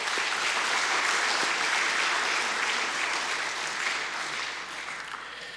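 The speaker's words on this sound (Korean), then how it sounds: "격려의 박수 한번 하겠습니다." A church congregation applauds during a Sunday morning service to encourage a bereaved member, a dense, loud, continuous clapping that fades slightly toward the end.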